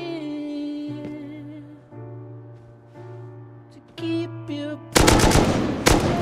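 An AK rifle fires in the survival video game Rust, with a loud, rapid burst arriving near the end after a stretch of quieter tonal game sounds.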